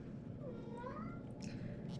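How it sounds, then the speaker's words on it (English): A house cat meows for attention indoors, a few soft, drawn-out meows at moderate distance over a steady low background hum. "Sorry if you can hear my cat meowing at me."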